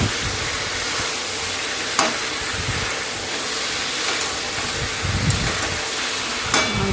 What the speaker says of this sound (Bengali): মাংসটা ভালো করে কষাবো যতক্ষণ না মাংসের গা দিয়ে তেল বের হচ্ছে